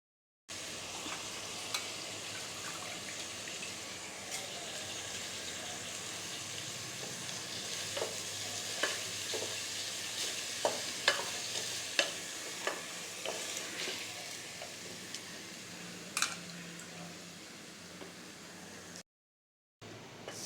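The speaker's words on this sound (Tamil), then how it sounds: "தாளித்து அரிசி போட்டாச்சு." Ghee sizzles and crackles steadily as spices are tempered and stirred for milagu pongal, with a dense frying hiss and sharp pops of mustard or cumin throughout, no talking.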